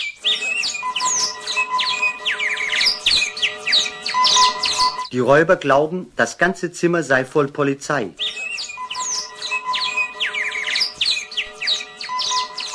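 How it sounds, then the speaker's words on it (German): A bird chirps and squawks inside a room in a 1970s German radio play, bright busy calls filling the scene, pausing briefly while someone speaks, then resuming loudly. "Außerdem ist der Vogel aus Neugierde ins Zimmer geflogen"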